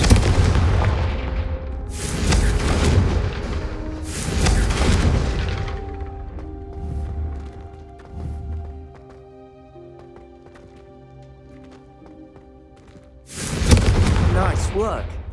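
Confringo spell blasts go off in Hogwarts Legacy, several heavy booming explosions in succession with ringing decay between them, then another loud blast near the end.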